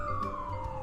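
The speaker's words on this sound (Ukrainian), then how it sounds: "Це, тигруню, пожежна машина." A fire engine siren wails steadily and fairly loud, its tone gliding slowly downward through the whole short stretch, with no talk over it.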